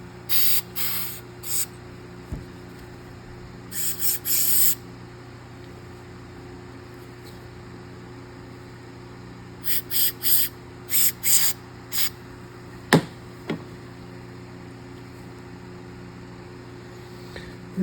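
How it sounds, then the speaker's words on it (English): Oil squirted into a pocket knife during cleaning comes as several short, sharp hissing spray bursts in small clusters, close to the mic, separated by quiet stretches. "Squirt a little bit of oil in there."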